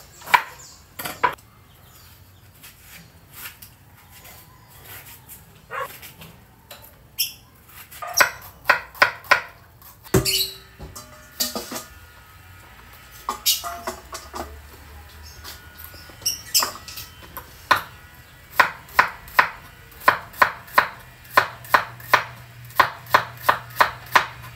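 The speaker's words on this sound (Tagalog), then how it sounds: "Hihiwain lang natin ang ampalaya guys." A knife chops bitter gourd (ampalaya) on a cutting board in a home kitchen, with sharp, close taps coming in irregular bursts that speed into a fast, even rhythm toward the end.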